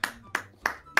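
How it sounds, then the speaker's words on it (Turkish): Four sharp, evenly spaced hand claps ring out close and clear over a faint low background hum, with no one talking. "Alkışıyorum sizi"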